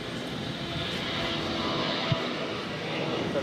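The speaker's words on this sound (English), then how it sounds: "1776 taking off to Philadelphia on the A319." American Airlines A319 airliner taking off from Boston, a continuous broadband jet engine roar at moderate distance, steady and sustained across the short span, with faint background voices.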